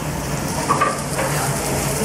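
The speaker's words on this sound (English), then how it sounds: "Sizzling?" Steady, even sizzling of bell peppers frying in a hot pan, a continuous crackling hiss with a faint clink partway through.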